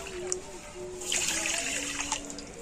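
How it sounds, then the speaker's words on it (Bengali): Water poured from a bowl into a pan holding sugar, a close gurgling splash that swells briefly in the middle and then trickles off, with a faint tonal hum running underneath. "আর এই বাটি এক বাটি দিয়ে দেব জল"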